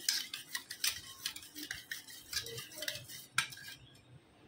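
A spoon clinks and scrapes against a pot while stirring hot milk to break up the cream, quick metallic taps and swishes in an irregular rhythm, close and fairly quiet with no voices.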